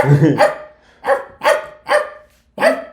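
A person imitates a dog, letting out five sharp, convincing barks in an uneven rhythm, close and loud, with a brief voiced sound at the start and short silences between the barks.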